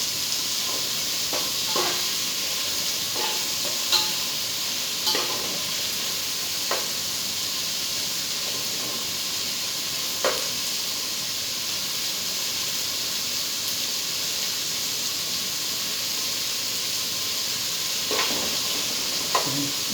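Squid adobo ingredients sauté in a hot pan, giving a steady sizzle and hiss with occasional soft scrapes and taps of stirring, no voices.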